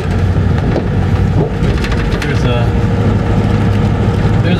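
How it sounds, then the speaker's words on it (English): A monsoon thunderstorm in 1996 pours heavy rain with wind, making a loud, steady, dense roar of rainfall that fills the whole stretch without letup. "This is only the best way we can actually hear and actually see the storm without having the wind all over us"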